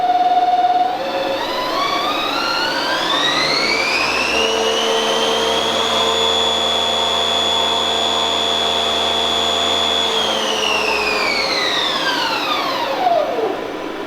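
A milling machine motor spins up to 5,000 RPM, a loud rising whine with harmonics that climbs over several seconds, holds a steady high pitch, then winds back down near the end, close and alone.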